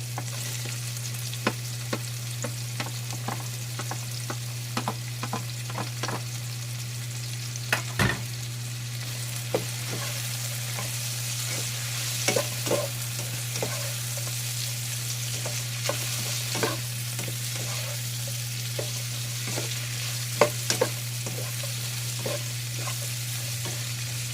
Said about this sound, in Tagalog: Lutuin mo natin yung carrots natin.